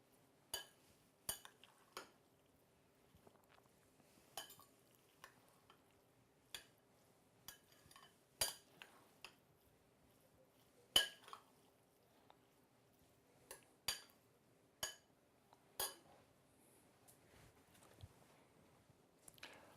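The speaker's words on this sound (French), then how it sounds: "Hop, je mélange correctement." Tabbouleh salad of vegetables, herbs and vinaigrette being tossed in a bowl, with quiet, sparse clinks and scrapes of a utensil against the dish at irregular intervals over near silence.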